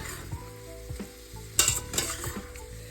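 Meat cooks in melted butter in a pan, giving a steady close sizzle with a few clinks and stirring scrapes, louder bursts of frying near the end, and nobody speaking.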